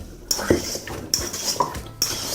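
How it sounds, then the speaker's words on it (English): A spoon clatters and scrapes against a bowl as seasoned chicken wings are tossed with spices, producing several sharp metallic clinks and stirring scrapes close by. "Give everything a really good mix."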